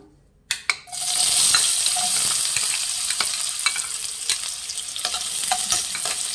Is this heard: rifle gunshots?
no